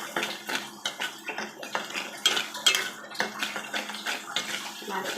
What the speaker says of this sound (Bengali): দিয়ে আমি নাড়তে থাকবো।